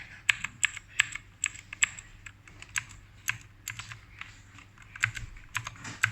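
Alt and arrow keys pressed on a computer keyboard while changing boot order in BIOS, heard as a steady run of close, crisp key clicks in an irregular rhythm with no talking.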